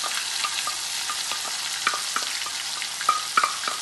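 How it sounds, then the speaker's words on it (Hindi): Ground garlic and green chilies fry in a pan for a raw banana curry, a constant close sizzle broken by occasional stirring scrapes and taps, with no talking. "और गार्लिक और हरे मिर्च का इसे धीरे से ऐड करेंगे हमें इसे अच्छे से मिक्स कर लेना है"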